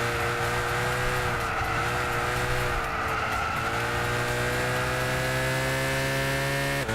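A race car in Gran Turismo 6 roars continuously around the track, its engine a loud, sustained whine with harmonics that sag and then climb as it shifts and accelerates, alone without talk.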